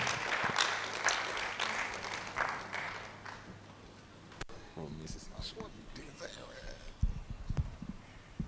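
An audience at a public lecture claps to welcome a keynote speaker, a fairly faint burst of applause over the first few seconds that fades out, followed by quieter scattered sounds and a voice beginning to speak.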